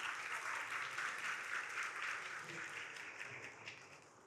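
Audience applause at a formal government presentation of household survey results, greeting the arrival of a finance secretary: dense, steady clapping from a room full of people, holding strong and then gradually easing off.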